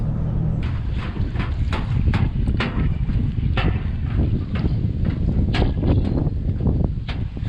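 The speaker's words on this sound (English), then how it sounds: "Windy day." Strong wind buffets the microphone in a continuous low rumble, with the 100hp Chrysler outboard engine of a 1982 Glasstream boat droning underneath and occasional clicks and knocks.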